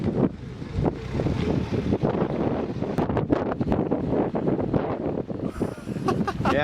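Blustery wind buffeting a microphone outdoors near a small wind-powered rotor, a steady broadband rush with repeated gusts and thumps for the whole stretch, fairly loud throughout.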